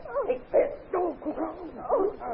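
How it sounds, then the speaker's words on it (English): A dog in a radio drama gives a rapid series of yips and short whining barks, close and fairly loud, five or six quick vocalizations over a couple of seconds. "Here's the dog."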